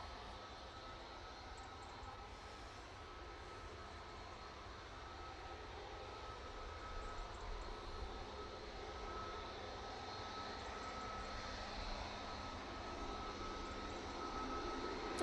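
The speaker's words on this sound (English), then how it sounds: "that is the EasyJet going off to Barcelona. There it is, just crossing over the active runway" EasyJet airliner taxiing across the active runway at Manchester Airport, a faint, distant, steady jet engine hum that slowly swells slightly louder toward the end.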